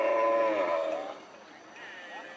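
Cattle at a rural livestock market, a single drawn-out harmonic moo lasting about a second, followed by quieter lowing and faint background sounds.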